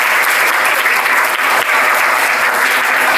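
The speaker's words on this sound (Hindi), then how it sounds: "एक बार जोरदार तालियां।" Students at RD Public School give loud, continuous applause during a school magic show, a dense roomful of clapping that stays steady throughout.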